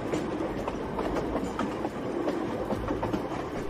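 A train rumbles along steadily with faint rhythmic clicking from the rails, a continuous, moderately loud rolling noise with no voices.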